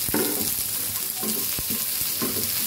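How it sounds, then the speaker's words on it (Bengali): Dried taki fish fries in hot oil with a little turmeric, a steady loud sizzle broken by a few sharp stirring scrapes and clicks of a utensil against the pan. "আমি শুটকি আগে ভেজে নিব, হালকা করে ভেজে নিব"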